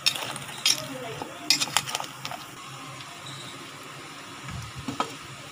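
A spoon scrapes and clinks around a pan while spices are stirred into soya chaap, giving several sharp metallic taps and scrapes in uneven bursts, close by, with brief quiet gaps between strokes.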